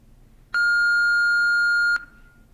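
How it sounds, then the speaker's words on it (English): A single electronic answering-machine beep, loud and steady, holding one pure tone for about a second and a half before cutting off abruptly, with only faint room hiss around it. "Hello, you have reached my answer machine."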